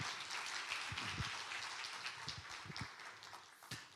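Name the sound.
church congregation applauding to welcome the pastor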